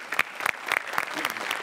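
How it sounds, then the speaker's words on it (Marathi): Loud audience applause closes a comedy skit on a Marathi stage show, a dense burst of clapping with sharp peaks that carries steadily through the short stretch. "जोरदार टाळ्या."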